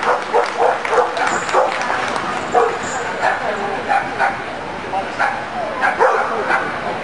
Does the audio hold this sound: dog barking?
yes